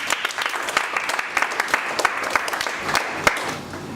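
A church congregation claps and cheers in praise of the Lord, sustained dense applause with sharp individual claps standing out, steady and fairly loud throughout with no speech.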